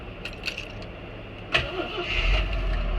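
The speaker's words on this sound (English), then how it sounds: "it fired right up, and you can see it actually idles fine" A 1981 Jeep CJ8 Scrambler engine cranks and fires at about 1.5 seconds, then settles into a steady, close rumbling idle, with faint key jingles before the start.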